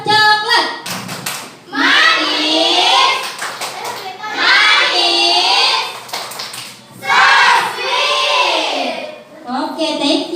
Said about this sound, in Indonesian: Coba diberikan tepuk coklat untuk kelompok kuning.